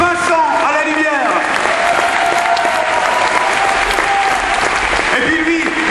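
An audience at the 2009 Jeune Garde centenary in Eloyes claps steadily for a lighting technician, a thick continuous wash of hands with a voice speaking over the opening and closing moments.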